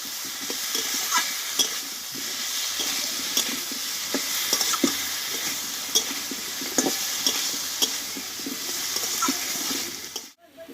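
Ground chilli, ginger and cumin paste sautés in a pan with a dense, continuous sizzle and frequent light stirring scrapes, close and steady for about ten seconds before a sudden cutoff.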